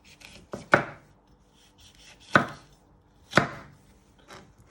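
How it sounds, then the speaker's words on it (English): A knife comes down through a vegetable onto a cutting board in three firm, separate chops, close and fairly loud, with lighter slicing scrapes and board taps between them. "you first want to chop it down the middle, and then you only want to use half"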